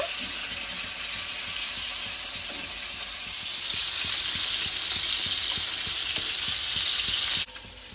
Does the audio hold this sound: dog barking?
no